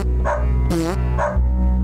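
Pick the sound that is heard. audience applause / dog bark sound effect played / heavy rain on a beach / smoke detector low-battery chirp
dog bark sound effect played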